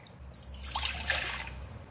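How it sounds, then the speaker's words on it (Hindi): Water pouring into a pan to boil pasta for white sauce pasta in a home kitchen, a short soft splashing stream that swells briefly and then fades. "पास्ता बनाने लई असी एक पैन ले लिया, इहदे विच असी पानी पा लांगे।"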